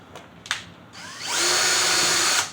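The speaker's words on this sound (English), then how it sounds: "that's when I'll get my drill" A power drill spins up and bores steadily through an enclosure panel, preceded by a couple of faint taps, then runs loud and continuous for about a second before cutting off.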